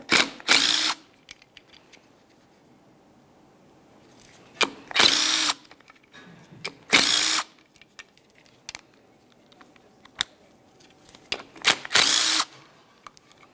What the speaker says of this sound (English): You can do that by removing your four 13mm headed mounting bolts.